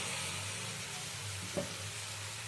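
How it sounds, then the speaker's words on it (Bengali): Potato and okra sauté with spices over medium heat for bhindi aloo do pyaza, a faint steady sizzle with a single light stir partway through. "আলু আর ঢেঁড়সটা ভালো করে মশলার সাথে কষিয়ে নেওয়ার পরে"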